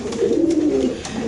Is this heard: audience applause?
no